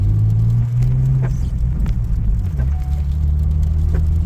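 Nissan R50 Pathfinder 4x4 driving in 4 high on a snowy mountain road, a steady low cabin rumble of engine and tires heard from inside, with occasional light knocks over the constant drone.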